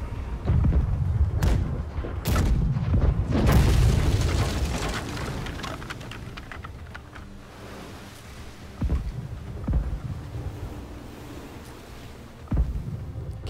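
A volley of booming ship cannon shots in the game Blackwake fires in quick succession from the right side, then fades into scattered, more distant blasts with rumbling in between.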